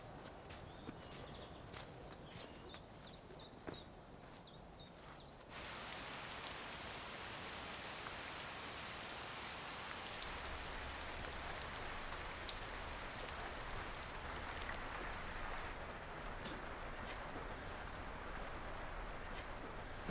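Rain falling outside a garden potting shed: faint scattered drips at first, then a soft, steady hiss of rainfall that thickens and continues quietly to the end.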